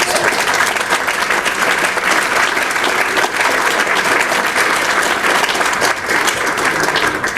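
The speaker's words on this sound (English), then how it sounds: "I'd like everyone to give them a little round of applause." A crowd applauds steadily and warmly at a Hall of Fame induction ceremony for a school's athletics program. The dense, even clapping fills the room for several seconds without a break.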